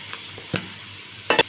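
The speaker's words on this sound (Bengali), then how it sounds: "সবজিগুলো একটু ভেজে নিতে হবে।" Vegetables fry in ghee for vegetable khichuri, a soft continuous sizzle broken by a couple of quick scraping stirs, close and moderately quiet over a very short span.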